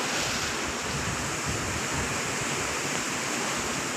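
Floodwater rushes through a village in Ban Kut Wai, Si Sa Ket, Thailand, making a loud, steady, close roar of flowing water with wind buffeting the microphone.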